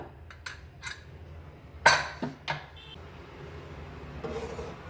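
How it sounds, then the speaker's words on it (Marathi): A cooled pressure cooker holding rajma and rice is opened: a sharp metallic clank of the lid being released, followed by a few softer clinks and scrapes of metal, close and brief, with no talking. "आता आपला कुकर पण थंड झालेला आहे, मी खोलून दाखवते तुम्हाला"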